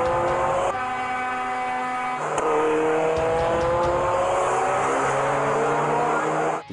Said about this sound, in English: a modified car drifting from one lane to another at